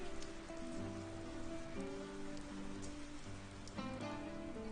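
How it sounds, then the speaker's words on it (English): Rain falling in the Final Fantasy VII Crisis Core video game, a constant soft patter on surfaces beneath sustained musical tones, with no talk. "isn't it freezing cold here and it's raining?"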